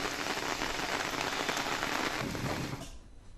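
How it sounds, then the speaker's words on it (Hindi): Steady rain falls on surfaces in Kanpur, India, during a lockdown, a dense continuous hiss of drops that stays even before thinning slightly at the end, with no voices. "2 दिन से रुक रुक कर लगातार बारिश जारी है।"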